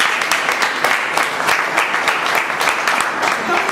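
A room of club members applauds a speaker, a lively, even burst of many hands clapping with individual claps audible in the mix, steady from start to finish.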